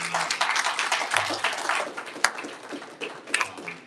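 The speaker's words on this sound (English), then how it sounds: "Now I want you to give yourselves a round of applause for being here." Audience at a fathers' talk event applauding themselves, dense crowd clapping with scattered individual sharp claps and a faint bit of voices under it, holding steady for several seconds.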